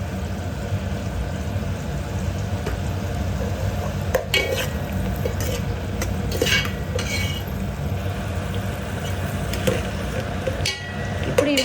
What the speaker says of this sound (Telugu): ఇప్పుడు ఈ ముక్కలు అనేది నూనెలో వేగనిద్దాం.